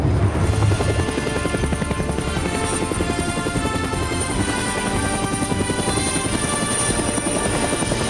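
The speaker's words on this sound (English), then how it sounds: "I'll call a helicopter to help them." An animated helicopter arriving with a loud, steady rotor chop and a high engine whine that holds constant throughout, with no voices over it.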